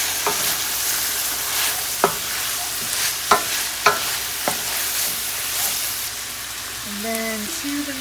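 Minced garlic stirred and frying in a pan, a steady sizzle broken by several sharp scrapes and clicks of the utensil against the pan, close and fairly loud.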